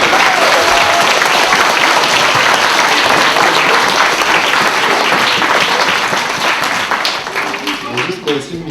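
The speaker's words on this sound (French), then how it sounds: "Alors, j'aimerais que tu applaudisses très fort" School students applaud loudly, a dense sustained burst of many hands clapping that fills the room, then thins and fades toward the end.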